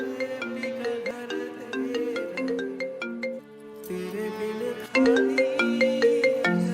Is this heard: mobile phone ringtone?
yes